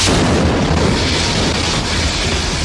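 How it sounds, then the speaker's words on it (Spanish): A rocket fired from a Bronco aircraft strikes near Miraflores Palace, a loud, sustained blast and rumble that fills the whole stretch with dense, broadband roaring noise and no talking. "acaba de caer un cohete cerca del Palacio de Miraflores"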